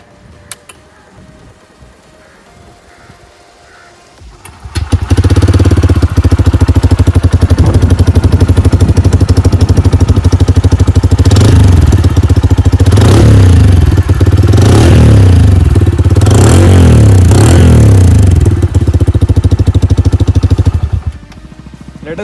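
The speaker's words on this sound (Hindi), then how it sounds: "Now let's check out the exhaust note of this bike." A Bajaj Freedom 125 CNG motorcycle starts up and runs loud and close, its exhaust note rising through several sharp revs in the middle before the engine cuts off abruptly near the end.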